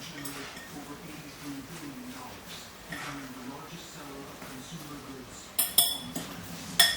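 A salmon patty mixture being stirred with egg in a bowl, soft scraping and clinking of a utensil against the dish under a person talking, with a few sharper knocks near the end.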